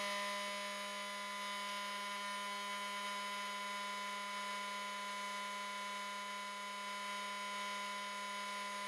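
An RC crawler's electric motor spins on a dyno as a faint, steady, high-pitched whine that holds an even tone throughout, with no voices.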